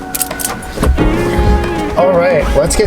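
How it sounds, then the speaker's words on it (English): Car power windows whir down with a steady electric motor hum in a vehicle interior, under a person talking and some rustling. "let's get these windows down"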